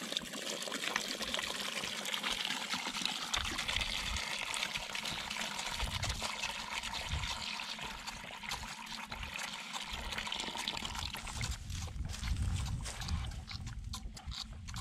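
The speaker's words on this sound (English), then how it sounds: "bringing some warm water out here for the pigs" Warm water poured out for pigs in a barn as winter sets in, a steady trickling, splashing pour with pigs grunting and snuffling nearby, moderately close over roughly fifteen seconds.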